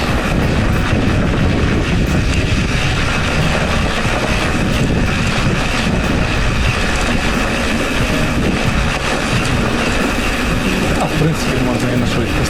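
A bicycle speeding downhill on a snowy winter forest trail, heard as a continuous loud roar of wind buffeting the microphone mixed with rumbling tyre and frame noise, steady throughout.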